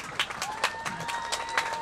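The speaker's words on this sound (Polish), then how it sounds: "Wielkie, wielkie brawa," A Children's Day crowd in Zakrzew claps for a dance group from the local culture house, giving modest, uneven applause with a few distinct hand claps. A tonal sound rings faintly behind it.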